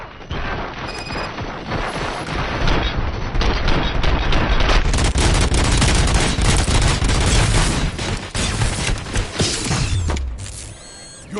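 Heavy gunfire from RoboCop: Rogue City pounds in dense rapid bursts, loud and continuous for several seconds with mechanical clanks, then fades into a short metallic sweep near the end.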